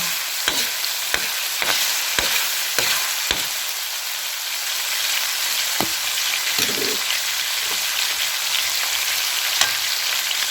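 Chicken liver frying in a pan for adobo gives a steady, close sizzle, with a quick run of sharp utensil clacks early on and a few softer taps later. No one speaks.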